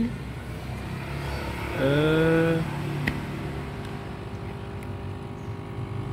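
A homemade membrane air pump for an aquarium runs with a steady close hum, and a short rising tonal whine swells briefly partway through.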